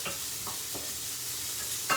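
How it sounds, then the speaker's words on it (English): Onions frying in ghee in a pan make a steady, close hiss, broken by a few scraping sounds as a utensil stirs them. "Make sure all of those onions are kind of broke up and they're frying away"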